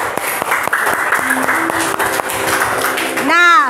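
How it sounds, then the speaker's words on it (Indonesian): Students in a classroom applaud a classmate with a sustained patter of clapping while a teacher keeps talking over it. "Kita beri aplaus buat teman kalian."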